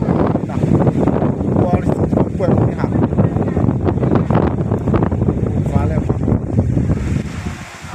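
Strong wind roars steadily through a rainstorm over a rural house in open fields in Nakhon Phanom, Thailand, close and loud with constant buffeting against the microphone, while someone talks over it.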